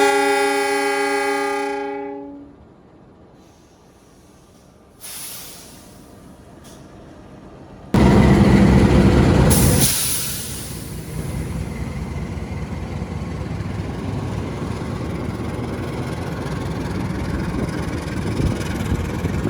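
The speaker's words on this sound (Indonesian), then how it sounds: "Kereta api Pandalungan dari Jember tujuan Jakarta Gambir berangkat dari stasiun Pasuruan" A Pandalungan passenger train from Jember to Jakarta Gambir departs Pasuruan station. A loud horn opens, then a brief lull, then another loud horn blast, followed by the continuous rumble and rail noise of the train pulling away.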